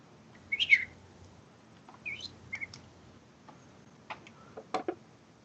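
A person's voice imitates birds during a tabletop fantasy role-playing session, with short chirps, tweets and whistles. They come in scattered bursts with quiet gaps between them, fairly soft and alone.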